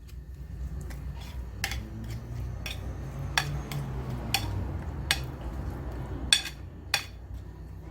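Salted ingredients being mixed together in a bowl, with scattered light clinks and taps of a utensil against the bowl over a steady low background hum, no talking.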